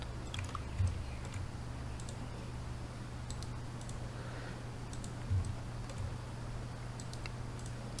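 Soft, sparse computer keyboard presses while working in 3ds Max, a few quiet isolated clicks over a low steady hum, faint and close.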